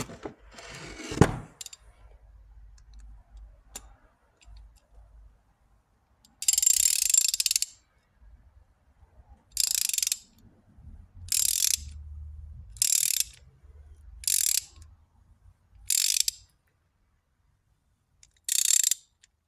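A ratchet tightens a bowl screw on a Chinese carburetor fitted with a Honda GX rebuild kit: seven short crisp bursts of clicking, close and fairly loud, spaced irregularly with quiet pauses, after a few faint handling knocks.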